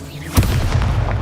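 An Expulso spell explosion in the Hogwarts Legacy video game, a single sharp, deep boom followed by a rumbling tail amid game sounds.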